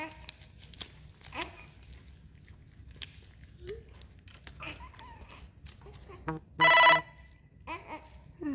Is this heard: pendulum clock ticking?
no